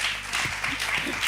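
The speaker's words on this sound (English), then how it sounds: "A round of applause." Audience applause at a live poetry performance, a short burst of dense clapping with some voices mixed in, fairly steady and moderately loud throughout.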